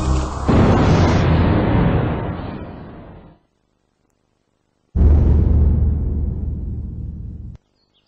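Firecrackers set off by hand burst in two long, loud crackling volleys, each lasting a few seconds before stopping abruptly, with a short silence between them and no talk.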